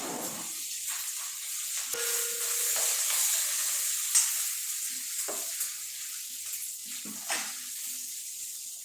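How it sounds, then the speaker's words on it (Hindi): Green chillies and curry leaves sizzle in hot oil with garlic and ginger while being stirred for kadhi pakoda. A steady frying hiss runs throughout, broken by a few scraping spoon strokes. "डालूंगी मैं इसमें हरी मिर्च और डालूंगी इसमें करी पत्ता, है ना। ये सबको अच्छे से चम्मच से लाऊंगी।"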